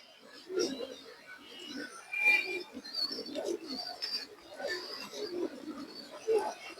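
Pigeons coo softly and repeatedly at close range in a pigeon sale setting, with someone talking steadily over the calls.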